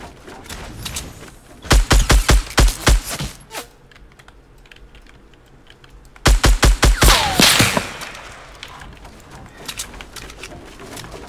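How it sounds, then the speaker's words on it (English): Submachine gun fire in Fortnite Battle Royale, two sharp rapid bursts of rattling shots a few seconds apart, loud and close, with quieter game sounds in between. "Rushing people with submachine guns."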